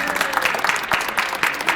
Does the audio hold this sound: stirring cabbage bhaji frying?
no